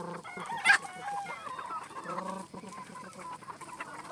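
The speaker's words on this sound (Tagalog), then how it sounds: "Nakaabang na naman sa kanya ang mga manok sa may gate ng range area." Gamefowl chickens wait by the range area gate on a game farm, clucking in a scattered, restless way. A rooster crows sharply once near the start, and the cackling continues at a modest level with no one speaking.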